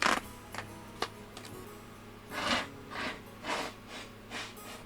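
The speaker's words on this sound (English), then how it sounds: "I need to blow my nose." A person blows their nose into a tissue in a few short, breathy bursts of moderate loudness, with faint ticking and background hum in a quiet room.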